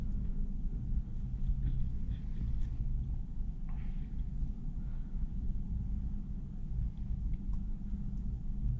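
A 2024 Honda Civic Sport with a six-speed manual idles at a red light, heard from inside the cabin as a steady low rumble that stays even and continuous, with faint soft knocks and rustles on top.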